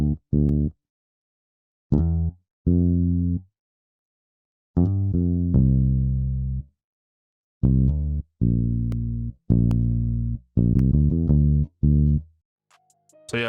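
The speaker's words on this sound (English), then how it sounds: "So I'm gonna play like bass for y'all." A synth bass line played on a MIDI keyboard in FL Studio 20 plays short punchy notes with gaps of silence between phrases, building to quicker runs near the end, loud and alone.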